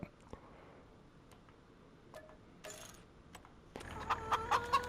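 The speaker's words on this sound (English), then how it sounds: "it's nice to hear the rooster" Rooster crowing in the Farming Simulator 25 video game, a few short calls rising out of quiet farmyard ambience with faint ticks, the crows louder toward the end.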